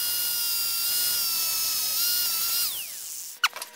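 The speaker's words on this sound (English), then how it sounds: "Not a lot of people carry an angle grinder with them everywhere they go, but I have to resort to that." Angle grinder cutting through brad nails clamped in a vise, a steady high-pitched whine with bright harmonics held for a few seconds, then winding down in pitch as it stops, followed by a couple of short clinks.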